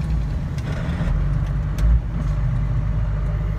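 A Cummins-swapped Ford truck diesel idles low and rough with its fuel solenoid wired up, a steady close rumble holding throughout with a slight swell near the middle.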